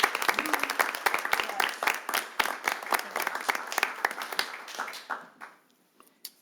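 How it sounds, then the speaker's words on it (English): At a city council meeting, an audience breaks into applause; individual claps are distinct and fairly close, steady for about five seconds, then thin out and fade to silence. "So let's have one big round of applause for that."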